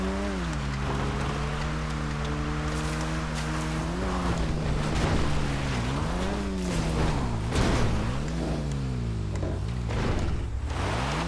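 A Nagasaki Outlaw off-road vehicle in GTA Online drives over rocks, its steady engine drone rising and falling in pitch, with scattered bumps and knocks from the rough ground throughout.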